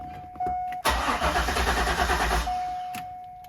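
Chevy Corvette C5 with a manual LS1 engine, long abandoned as a non-runner, cranks and turns over in a steady churning burst of about one and a half seconds, with a constant tone before and after and no talk.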